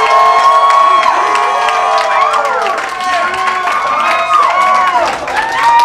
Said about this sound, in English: Clap real loud if you like Nick Poe.